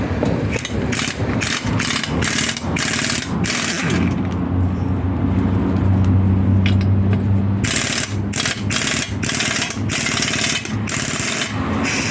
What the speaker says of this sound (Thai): เดี๋ยวเรายิงน็อตนี้ก่อน